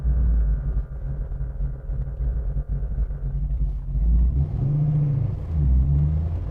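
A 1969 Ford Mustang Fastback muscle car rumbles with a deep, loping engine note from inside the cabin, a steady growl that swells in gentle revs under light throttle, with no voices.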